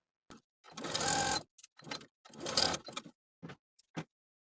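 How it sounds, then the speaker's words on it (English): A home sewing machine stitches darts in bursts: two long runs of rapid mechanical whirring with shorter stop-start pulses between them, close and clear, with no talking. "Now we're going to take the darts to the sewing machine and sew from the outside edge to the point"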